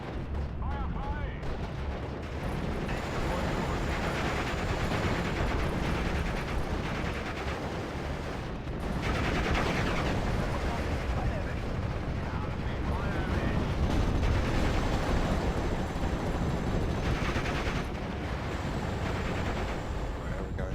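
Dense, continuous gunfire and booming artillery fill a World War II battle in Steel Division 44, a loud, unbroken barrage with scattered voices buried underneath.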